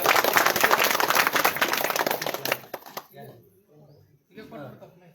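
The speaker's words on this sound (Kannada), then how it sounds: "ಜೋರಾದ ಒಂದು ಚಪ್ಪಾಳೆ" Loud burst of clapping from an audience at a village gathering in Bommanahal, dense and sustained for a couple of seconds, then breaking off into scattered claps and murmuring voices.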